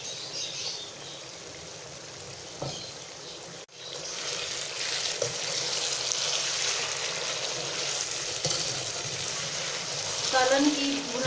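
Bitter gourd curry roasting in a pan gives a steady, moderate sizzle with faint stirring clicks, briefly dropping out and then resuming with a slightly fuller frying hiss.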